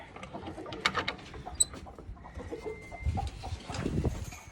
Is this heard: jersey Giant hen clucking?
yes